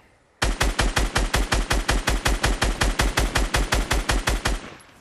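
Rapid automatic gunfire in Fortnite, a sustained burst of evenly spaced loud shots lasting several seconds before cutting off, with no talk over it.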